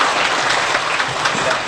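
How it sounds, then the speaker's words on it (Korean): An audience at a Korean lecture event claps in dense, steady applause, loud and close, with no pauses for the whole short stretch. "큰 박수 부탁드립니다."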